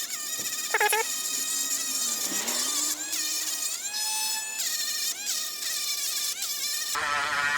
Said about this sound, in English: we're gonna go use this really fine cartridge tool here, cartridge grinder, and I'm gonna clean off the burrs on it.